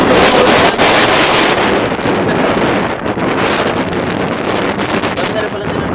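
Strong outdoor wind buffets the microphone in a steady, loud roar with gusty surges and a rustling texture throughout.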